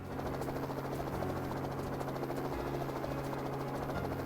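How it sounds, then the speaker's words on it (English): A helicopter in the visual novel Kinkoi Golden, its rotor droning steadily and evenly as it ascends, a continuous moderately quiet buzzing whir with no voices over it. "Helicopter."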